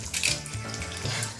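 Water runs steadily from a faucet into a sink, a close, continuous splashing rush with slight shifts in flow.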